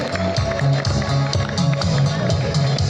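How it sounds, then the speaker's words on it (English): Students at a school assembly clap for a team in a rapid, even patter of many hands, with voices murmuring beneath the applause. "Students, please give them a big round of applause"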